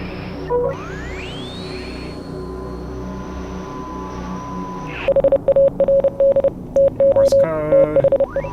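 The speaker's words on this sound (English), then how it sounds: "Morse code." Morse code beeps crackle through a radio in the Oxenfree video game, a rapid run of short and long tones cutting in over static after a tuning sweep and a low, steady hiss.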